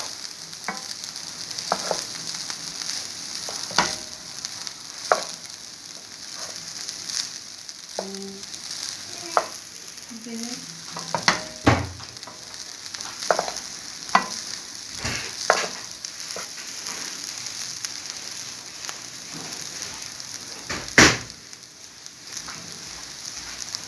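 Chicken fried rice with vegetable broth being stirred in a frying pan: a soft, steady sizzle with scattered scraping and clinking from the utensil, and no talking.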